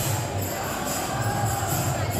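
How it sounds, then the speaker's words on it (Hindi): A large crowd fills the ISKCON temple at Juhu, Mumbai, during Hare Krishna bhajan singing, heard as a dense, continuous murmur of voices with faint chanting mixed in. "कितने सारे लोग हैं और कितना आवाज आ रही है, हरे राधे हरे कृष्णा भजन चल रहे"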